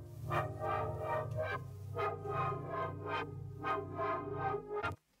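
Sustained synth chords from a chord progression in Ableton Live for a Jersey Club track, holding steady with swelling chord changes about every second and ending abruptly near five seconds.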